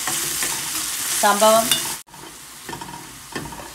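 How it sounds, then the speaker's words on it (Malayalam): Cucumber curry base frying and stirred in a pan until browned, with a steady close sizzle and scraping stirs; a brief spoken word is heard partway through. "ഇതിനി ബ്രൗൺ കളർ ആവുമ്പോൾ നമുക്ക് അങ്ങോട്ട് വറുത്ത് അങ്ങോട്ട് കൊടുക്കുക"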